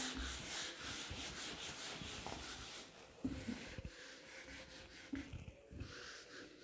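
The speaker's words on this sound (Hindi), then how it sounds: "अब इस डायग्राम को मैं पूरा रब कर देती हूँ" A teacher rubs out a diagram on a board with a duster, a faint, rough swishing of repeated wiping strokes with brief pauses, quiet and close.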